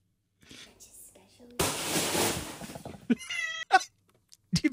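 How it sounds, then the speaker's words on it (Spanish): A cat meows a few short times after a burst of noise and some quiet speech, with sharp, close cries near the end. "ese gato de peli"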